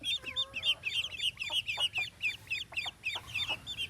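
Desi chickens cluck repeatedly in a courtyard, a run of short, bright, close calls in a loose rhythm with no talk.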